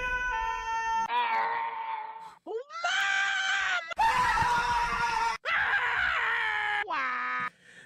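A streamer's loud scream played back as a clip: several long, strained, wailing yells follow one after another, some rising and falling in pitch, with brief gaps between them.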